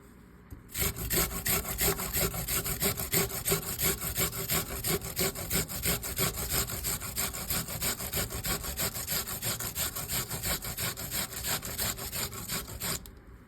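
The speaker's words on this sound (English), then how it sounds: "I'll be grating the onion first. To do so, I'll be using the larger holes on my grater." An onion is scraped against the large holes of a box grater in quick, steady back-and-forth rasping strokes, close and even for over twelve seconds with no talking.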